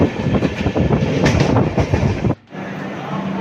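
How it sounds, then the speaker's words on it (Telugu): A moving passenger train nearing Palakkad Junction in Kerala, with loud rumbling and rhythmic wheel clatter from inside the carriage that drops away abruptly near the end, leaving a quieter hum. "మన ట్రైన్ అయితే పాలక్కడ్ జంక్షన్కి అయితే చేరుకుంది"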